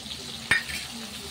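Chili, turmeric, coriander and cumin masala frying in plenty of oil alongside boal fish: a brief, steady sizzle with a single sharp clack of a utensil midway.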